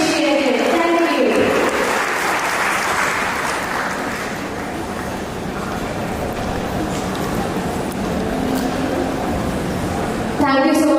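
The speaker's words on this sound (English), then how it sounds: "Let us express our heartfelt appreciation for the warm round of applause for this generous initiative" A ceremony audience gives a sustained round of applause, a broad, loud, continuous clatter of many hands lasting around ten seconds, with a voice heard briefly at the start and end.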